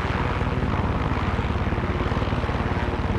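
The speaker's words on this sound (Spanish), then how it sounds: "Ya tengo el helicóptero, con lo cual puedo ir directamente aquí." Helicopter in the video game Far Cry 6, its rotor pulsing in a steady rapid beat over a loud, dense engine roar that fills the whole clip, with no talk.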